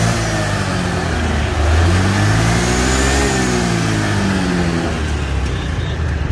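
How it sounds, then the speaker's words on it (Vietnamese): A used fuel-injected motorcycle engine runs steadily nearby, a smooth continuous hum with a slight swell in revs partway through, heard alone without talk. "nhưng mà máy của nó thì cực kỳ êm nhá."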